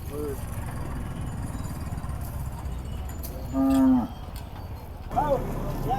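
Cattle moo loudly and close by at a crowded Pandharpuri and Khillar bull market, one long low bellow standing out over steady crowd chatter and background noise, with another shorter call near the end.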